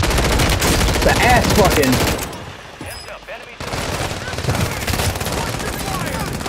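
Loud bursts of machine-gun fire from other players in a multiplayer shooter game rattle continuously for about two seconds, then drop out briefly before more rapid gunfire resumes alongside shouted voices.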